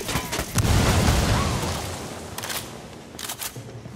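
A frag grenade detonates in Ghost Recon Wildlands, a heavy boom that swells and rolls off into a long fading rumble, followed by a couple of fainter thumps.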